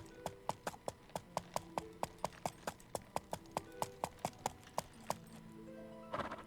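Rapid, evenly spaced hoofbeats of a galloping horse in the medieval MMO Life is Feudal, crisp and clear, then a brief scuffle of other noise at the end.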